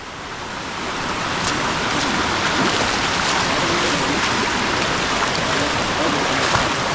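Water rushes loudly and steadily along the Dudhsagar Waterfall trek, a dense broadband roar of fast-flowing stream that swells in over the first second and then holds constant, close by.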